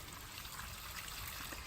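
Running water trickles steadily over venison meat as it is rinsed, a faint, continuous broadband wash of flowing water with no talk.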